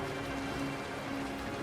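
Rain falling over a deserted, ruined city in the video game Snowbreak, a dense even hiss of drops with a faint steady tone running underneath.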